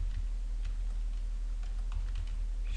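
Keys tapped on a computer keyboard in light, irregular clicks, faint against a quiet room hum, with a slightly quicker burst near the end.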